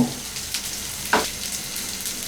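Drumstick leaves and sliced green chilies fry in a pan with a steady soft sizzle, broken by a brief sharper crackle midway as the mixture is stirred; no one speaks.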